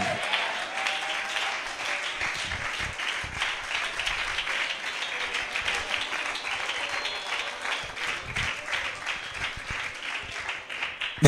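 A church congregation applauds during a sermon: dense, sustained clapping that holds at an even, fairly loud level from start to finish, with no pause.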